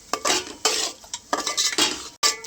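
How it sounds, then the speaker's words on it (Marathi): Vegetable curry with coriander powder being stirred in a metal pan, a spoon scraping and clinking against the pan in repeated strokes, loud and close, with no talking. "टाकणार मी धनिया पावडर पूर्ण भाजी मिक्स करून घेते"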